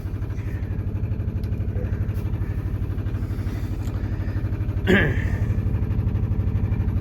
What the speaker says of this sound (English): Grab 1 or 2 more things down below while that engine warms up a minute